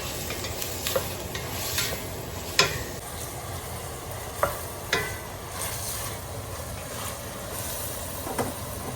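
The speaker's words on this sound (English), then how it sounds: "Sausage browning and the onions getting soft." Sausage and onions browning in a pan, a soft continuous sizzle with occasional clicks and scrapes from stirring, fairly quiet and steady.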